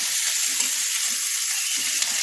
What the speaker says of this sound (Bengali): পেঁয়াজ দিয়ে দিয়েছি কড়াই